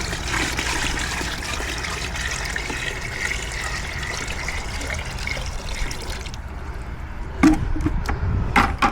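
Fresh water pours and trickles into a container of mud minnows, a steady splashing flow that runs for several seconds, then stops, followed by a few bumps and handling knocks.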